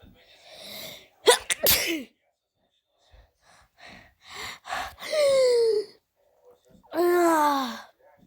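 Several sneezes and gasping breaths from a person playing a game, loud and close, with sharp bursts and a long drawn-out final sneeze; short pauses between them.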